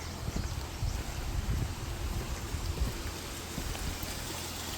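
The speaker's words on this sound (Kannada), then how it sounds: "ನೀರು ಲೀಕೇಜ್ ಅದು," Water trickling and splashing steadily as it leaks through the partly open gates of an abandoned dam, a continuous low rushing wash heard outdoors with no voices.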